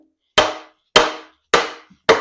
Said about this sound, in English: we're going to give it a few whacks with a dead blow hammer